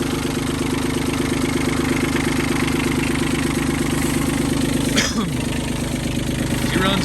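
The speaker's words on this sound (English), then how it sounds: "Just a little 3-cylinder 16-horse diesel." A small three-cylinder 16-horsepower diesel tractor with power steering idles steadily close by, a constant low rumbling chug with a brief clunk partway through.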